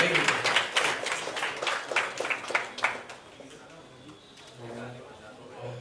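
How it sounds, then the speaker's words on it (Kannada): Audience applause at the stage of a Sri Star Gold brand sixth-anniversary celebration, a dense burst of clapping for the first few seconds that fades under a voice speaking. "ಜೋರಾದ ಚಪ್ಪಾಳೆ"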